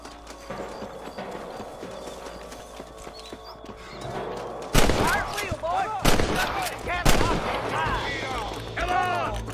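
Gunfire in the Western video game Red Dead Redemption: a quieter, busy opening gives way to sharp, loud shots and bursts in the second half, with hoofbeat-like clatter mixed in.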